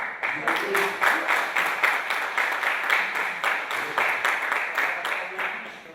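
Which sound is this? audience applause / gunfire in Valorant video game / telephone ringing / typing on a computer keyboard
audience applause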